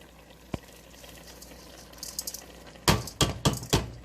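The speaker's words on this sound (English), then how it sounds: "So here we go, add in the rice." Washed rice tipped into a pot of vegan jambalaya mixture and stirred, a soft bump, a faint rustle, then several sharp clinks of a utensil against the pot, close and without talking.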